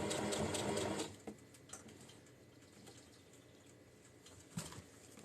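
A sewing machine stitches the lining of a crocheted granny-square tote bag, running in a quick, close whir for about a second and then stopping, followed by a few faint clicks and a brief second burst near the end.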